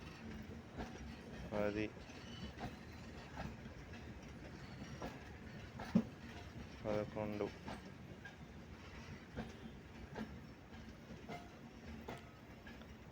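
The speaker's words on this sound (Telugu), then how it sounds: "ఈ ట్రైను మిల్క్ ట్యాంకర్స్ 11 తీసుకొని ఈ ట్రైన్ వెళ్తుంది" A slow-moving freight train hauling 11 milk tanker wagons rolls past with rhythmic wheel clicks at the rail joints over a low rumble, fairly quiet, while someone speaks over it counting.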